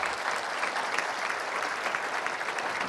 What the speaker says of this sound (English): please give a round of applause to our CEOs